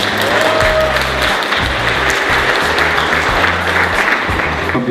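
Audience applause welcoming a guest onto the stage at a Mercedes V-Class launch event, a dense sustained wash of clapping throughout with a low hum and faint background sounds underneath.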